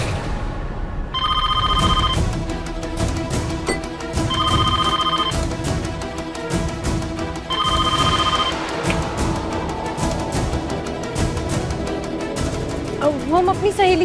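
A home telephone rings in three separate bursts of electronic trilling tones, with spoken dialogue and background music running underneath throughout.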